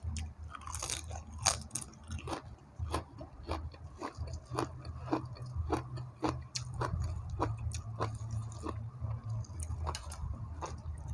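Close, steady chewing of grilled fish with salad vegetables, a rhythmic run of crunchy bites and moist squishes over about eleven seconds, with no talking.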